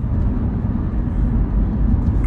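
Mazda 6 sedan engine accelerating on an open road, a steady, loud low rumble heard from inside the car, holding strong throughout without talk.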